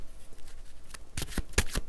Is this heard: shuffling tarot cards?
yes